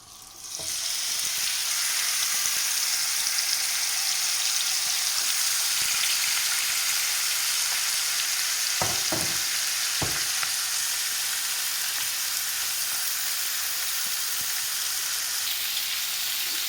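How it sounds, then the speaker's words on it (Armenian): Chicken wings frying in about a tablespoon of oil give a steady, close, dense sizzle that holds evenly throughout, with a few brief clicks and pops near the end. "Ընդամենը 1 ճաշի գթալով տապակելու ենք, քանի որ հավի թևիկների վրա արդեն ավելացրել ենք ձեթ"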